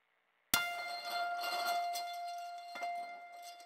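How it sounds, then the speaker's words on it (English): Plastic counters from a kid's game, processed through convolution reverb: a sharp clattering onset followed by a long, bright, ringing tonal wash that slowly decays with faint flickers, heard alone. "So I've just got one more here, which is the sound of a kid's game, plastic counters."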